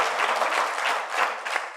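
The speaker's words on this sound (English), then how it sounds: "Clap your hands and thank God for Mother Hall." A church audience claps hands in a dense, steady patter of applause, loud and filling the space with no pauses.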